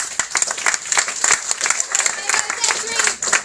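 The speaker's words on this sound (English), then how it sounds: "so round of applause" An audience at a charity event gives a short round of applause, dense clapping over a few seconds with voices and cheers mixed in.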